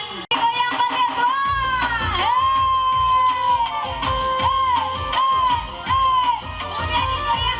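A crowd at a lively community KIM game event in Solok, 2019, cheers and shouts over loud music with sustained tones, children's voices and whoops rising in bursts throughout.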